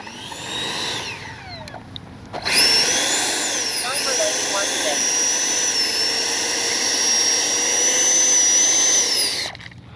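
A Freewing 64mm F-22 RC jet's electric ducted-fan motor roars and whines steadily in flight, loud and close, with its pitch rising and falling slightly as the throttle changes, then cutting off near the end.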